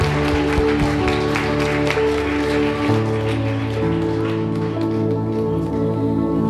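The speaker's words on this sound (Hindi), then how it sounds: "आपकी तालियां कमजोर नहीं पड़नी चाहिए, क्योंकि याद रखिए कि आप तालियां उसके लिए बजा रहे हैं।" Church congregation clapping at a Punjabi crusade service, a dense wash of applause over loud sustained music with organ-like tones and a bass line that runs throughout.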